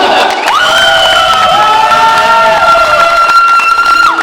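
A karaoke audience cheers, whoops and shouts loudly through the whole stretch, with clapping mixed in and some high voices rising and falling over the noise.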